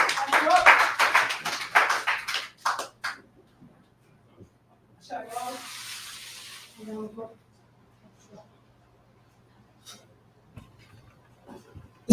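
A group breaks into a round of dense, loud clapping for a class in a hall, which fades after a few seconds into quiet room noise with scattered talk and small movements.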